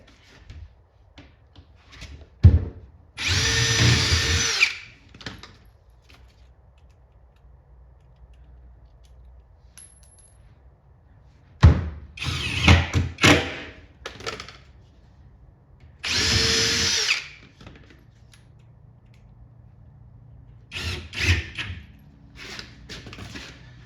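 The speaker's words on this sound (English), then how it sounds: "I'm going to put 6 screws on this bottom panel." Power drill driving screws into a scrap wood bottom panel for an arcade cabinet build, in several separate bursts of whirring, each a second or two long, with quiet handling noises between.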